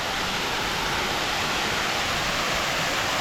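Small waterfall at Kumari Ella in Seethawaka, Sri Lanka, a constant close broadband rush of falling water, steady and loud with no other sounds.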